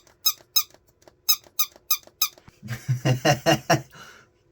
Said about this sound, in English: I kind of want it as like a tactical squeak